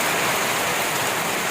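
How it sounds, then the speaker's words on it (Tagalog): Heavy rain pours in a steady, dense hiss that fills the whole clip evenly, with no talk over it. "Lakas ng ulan dito."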